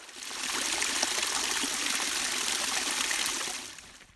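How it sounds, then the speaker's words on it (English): A stream draining from a lake in Mösern, Tirol, Austria flows steadily, a continuous close rushing and trickling that fades in and out gently, with no voices. "stop next to a stream draining from the lake and just listen"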